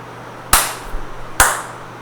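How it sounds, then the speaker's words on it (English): A teacher claps her hands twice in a quiet classroom, two sharp, close claps about a second apart with brief ringing decay. "and then clap"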